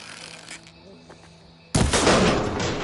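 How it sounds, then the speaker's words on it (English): A lock shot off in the video game Horizon Forbidden West: after a quiet stretch of faint game sounds, a sudden loud blast cuts in and rings out in a dense, noisy burst. "I need to shoot off the lock."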